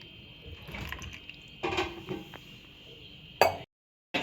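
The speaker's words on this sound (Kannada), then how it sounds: "ಇವಾಗ ಹಾಲು ಹಾಕ್ತಾಯಿದ್ದೀನಿ." Milk is poured into a cooking pot in a home kitchen with the gas turned off, giving short, quiet bursts of splashing liquid separated by brief pauses.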